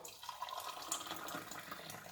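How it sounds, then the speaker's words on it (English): Hot water being poured for a lime drink, a quiet, steady splashing stream that runs the whole time with no talk over it. "we're just going to simply pour in our hot water."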